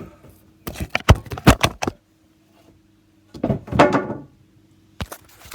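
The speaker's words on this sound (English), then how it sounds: "Knock my camera over." A camera gets knocked over during a bathroom renovation, giving two sharp clattering bursts of hard knocks and rattles about two seconds apart, then a brief final clunk, with quiet between them and no talk.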